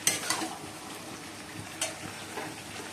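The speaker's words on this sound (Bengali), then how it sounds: "বন্ধুরা চিকেনটা আমি কষছি" Chicken being sautéed in a pan sizzles up close, broken by a few quick scraping stirs of a spoon against the pan.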